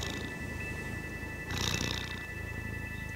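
A domestic cat purring in a warm kitchen, a soft steady low rumble that swells briefly louder midway, close and continuous with no talking.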